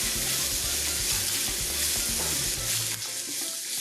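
Chopped onions and garlic sizzle steadily in a frying pan while being stirred for ground beef tacos, a close, continuous frying hiss with light scraping, no talk.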